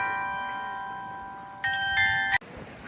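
Bells ring out during a bell show in an old town market square, a bright ringing chord swelling in partway through over outdoor ambience before stopping abruptly.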